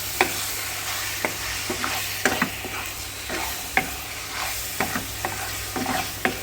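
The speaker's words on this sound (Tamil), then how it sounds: "போட்டு லைட்டாக இப்படி ஒரு மிக்ஸ் பண்ணுங்க" A spoon stirring coriander powder into biryani masala in a pot, giving a steady soft scraping with about a dozen sharp clicks of spoon against metal, over a low sizzle of frying.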